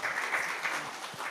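Audience applause at a weekly sabha gathering, a steady dense wash of hand-clapping that holds at an even level for its whole length, with no voices over it.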